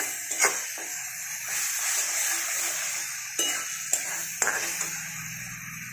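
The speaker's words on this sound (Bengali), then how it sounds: "ভালো করে ভাজতে হবে।" Green banana peel paste frying in a pan, a steady sizzle with utensil scrapes and a few sharp metallic taps as it is stirred, no voices.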